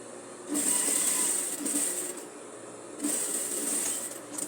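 A sewing machine stitches fabric for tailored shorts with the presser-foot seam width and backstitching, two close bursts of rapid whirring needle motion separated by a short pause.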